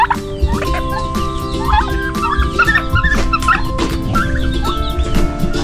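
Turkeys gobble amid a noisy yard of fowl, with occasional yips and barks from a dog and constant background bird chatter.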